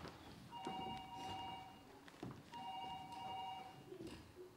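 A telephone rings indoors in two long bursts of electronic double-tone trilling separated by a short pause, moderately loud against a quiet room.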